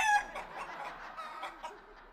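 Chicken clucking, a few soft fowl calls in quick irregular succession, fairly faint and alone, with no talk over them.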